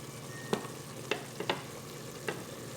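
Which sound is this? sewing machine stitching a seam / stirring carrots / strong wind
stirring carrots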